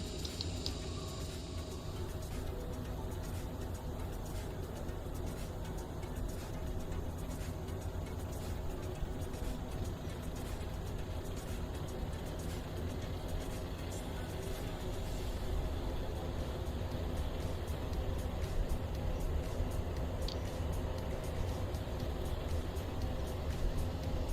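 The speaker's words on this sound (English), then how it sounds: "Starting engine 1." Engine 1 of a CRJ regional jet starting in a flight simulator game, a steady low mechanical rumble and hum that slowly builds, continuous and moderately loud with no voices.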